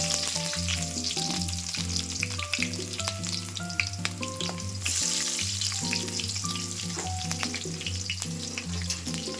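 Chopped onions frying with potatoes and broad beans in a pan, a steady loud sizzle with rhythmic stirring scrapes repeating throughout, with music playing alongside and no talking.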